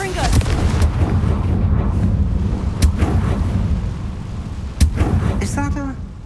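The Confringo fire spell blasts in Hogwarts Legacy, a loud booming burst under continuous rumbling combat noise, with a few sharp cracking impacts and a voice speaking over it.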